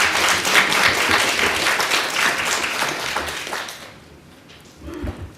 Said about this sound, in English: So let's give applause to Graham